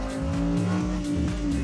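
A rear-wheel-drive Audi R8 Performance is driven hard, its engine pulsing through quick rev changes alongside a brief tyre squeal, heard close and without talk.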